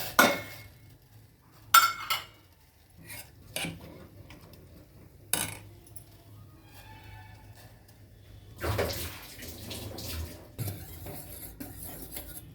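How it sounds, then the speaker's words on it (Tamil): Jaggery is added to a pan holding a tumbler of water on a low flame and stirred to dissolve, with a metal utensil scraping and clinking against the pan in scattered bursts and short clatters, no voices. "இந்த வெல்லத்தை இதில் சேர்த்துறேன்"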